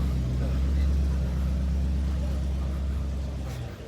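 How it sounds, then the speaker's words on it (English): A hot rod arriving at a car show gives a deep, loud burbling engine rumble close by, steady then easing off toward the end. "Oh, there's a hot rod coming in. Let's go and have a glance. The Burbling."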